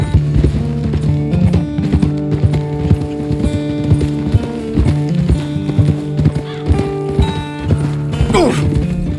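Horse hooves clip-clop rapidly in Red Dead Redemption 2, a loud, close gallop rhythm mixed with a neigh and layered under the game's music throughout.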